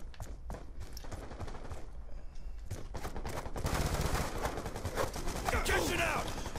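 Rapid light-machine-gun bursts in a first-person shooter game, with gunfire and explosions building to dense, loud sustained firing in the second half, while someone talks over it.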